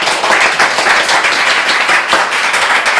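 A studio audience at a virtual cooking challenge applauds, a dense, loud burst of many hands clapping continuously for a few seconds.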